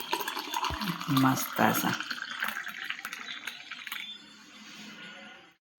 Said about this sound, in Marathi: चला, पहिला भरूया ग्लास